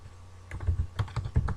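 Rapid keystrokes on a computer keyboard, a burst of uneven close clicks and taps with short pauses, heard alone without talk.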